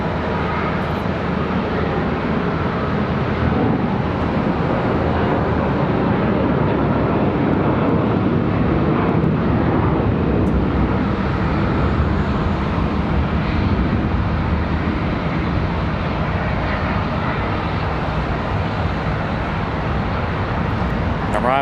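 A jet airliner arrives at Charlotte Douglas International Airport, its engine roar a steady, broad rumble filling the whole stretch, loud and unbroken, with outdoor wind mixed in.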